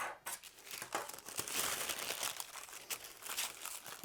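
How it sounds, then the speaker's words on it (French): Parchment baking paper is handled and crinkled beside a baking tray while croissant dough is prepared, producing a continuous run of crisp, close rustles and crackles with sharper snaps scattered throughout, fairly quiet and with no talk. "On prend un petit papier sulfurisé."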